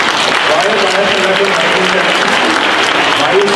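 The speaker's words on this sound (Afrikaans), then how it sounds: "So kom ons gee vir hulle hande klap." Audience applauding a couple's 57th wedding anniversary, dense sustained clapping from a crowd, loud and continuous with voices mixed in.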